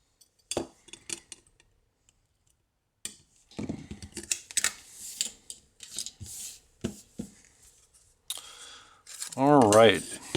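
Scissors or cutters snipping the excess leads off LEDs soldered into a Memory Game electronics kit, giving a scattering of sharp, close clicks at irregular intervals, with a brief warbling electronic tone near the end.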